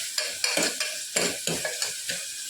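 Onion and tomato sautéing in a pan, a steady sizzle broken by repeated scraping stirs, roughly seven spatula strokes in an uneven rhythm, close and clear with no voices.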